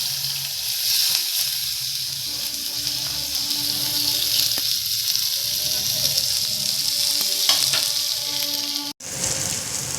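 Chopped onion with garlic and turmeric sizzles steadily in hot oil in a pan for a home-style bell pepper curry, a continuous hiss with occasional stirring clicks and a brief drop near the end.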